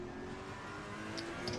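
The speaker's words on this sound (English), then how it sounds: "pops and crackles coming from the exhaust sounding a little bit artificial, it does sound as though you've got your head sat next to the exhaust" V8 race car engine in a racing video game, a continuous close revving drone with a faint whine on top, steady in level throughout the short stretch.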